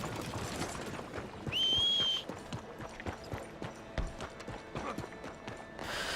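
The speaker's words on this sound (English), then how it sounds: "the horse is managing to get here" Horse hooves clip-clop in Red Dead Redemption 2, a steady trotting beat drawing closer, with a brief high whinny partway through and faint ambient game sounds behind.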